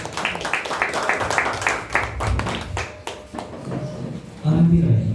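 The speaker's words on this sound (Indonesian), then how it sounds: "Berikan tepuk tangan dulu." A church congregation at a Christmas service claps in quick, uneven bursts of applause that thin out midway, with people talking over the clapping and a low musical tone entering near the end.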